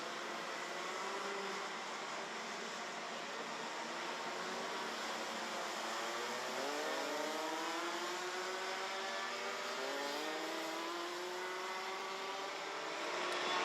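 Racing karts in a senior heat at Genk pass through a triple left-hander chicane, their small engines whining and revving in overlapping pitches that rise and fall as several karts brake and accelerate past at moderate distance.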